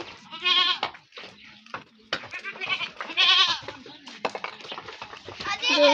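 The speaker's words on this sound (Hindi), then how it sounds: "ये बकरी इधर ही रह गई है, अभी आ रही है।" Goats on a goat farm bleat repeatedly at close range, several wavering, nasal calls spread across the stretch, while a person talks in between and around them.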